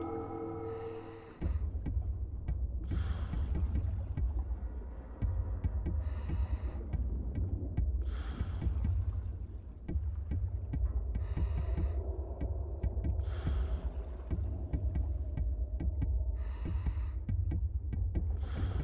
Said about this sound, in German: dann hört man im Normalfall so Klopfgeräusche.